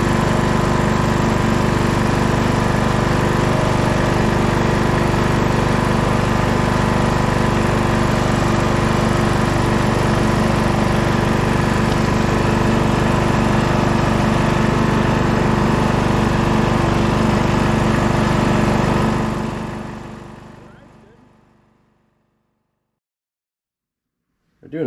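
A Scotts 15/42 lawn tractor engine runs loud and steady up close for about twenty seconds, then fades away and cuts to silence near the end.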